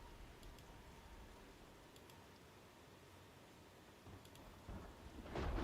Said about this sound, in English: it's raining for the next like 5 hours or something like that